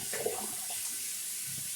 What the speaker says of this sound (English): let's get to rinsing off this conditioner